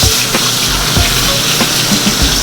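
A New Zealand rack of lamb sears in a hot pan, giving a steady close sizzle and crackle with a few soft knocks and shifts of the meat, and no voices.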